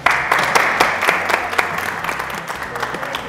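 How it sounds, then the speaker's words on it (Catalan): A group gives a short burst of applause in a room, its dense clapping steady and fairly loud, then tapering slightly over three seconds. "Un aplaudiment"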